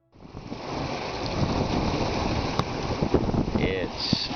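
Strong wind roars across the microphone aboard a sailboat offshore between South Africa and Florida, with sea wash and surf underneath, loud and steady throughout.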